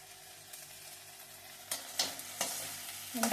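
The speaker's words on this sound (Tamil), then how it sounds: "வெண்டைக்காய் வதங்குது, தக்காளியும் வதங்குது." Okra and tomato sautéing in a pan, a soft sizzle swelling into several scraping stir strokes toward the end, close and fairly quiet.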